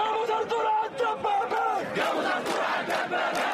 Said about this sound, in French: Le son des mégaphones chauffe à blanc une foule déjà en colère.